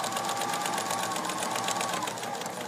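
A sewing machine stitches a seam in fabric, a close, continuous rapid mechanical whir and clatter at an even pace throughout, with no talking.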